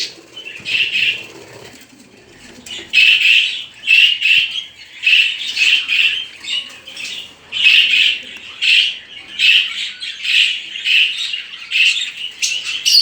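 A room of breeding budgerigars kept at home, with nestlings below, fills with bright, continuous chirping and squawking from many birds close by, rising and falling in bursts.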